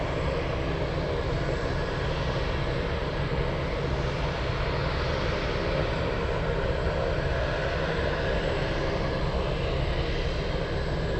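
An MD-11 tri-jet at Anchorage airport gives a steady, loud, broadband jet engine roar that holds without a break, alone with no talk over it.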